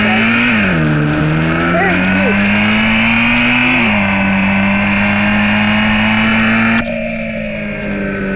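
A Lamborghini in a video game drones with a loud, sustained engine tone that rises and shifts through revs for several seconds before easing off slightly near the end.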